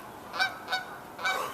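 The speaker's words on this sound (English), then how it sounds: "Geese there, geese flying over." Three honks from geese flying overhead during a snowstorm, moderately distant and spaced apart, rising briefly above a quiet outdoor background.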